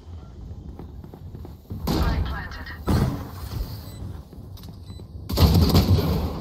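Gunfire in the Valorant video game comes as a few loud, sharp bursts over ongoing game sounds while a player talks.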